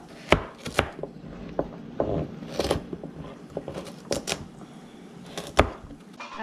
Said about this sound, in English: As you're chopping all of your vegetables